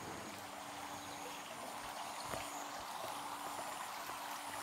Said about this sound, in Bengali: জল চলছে, ফিল্টার হচ্ছে,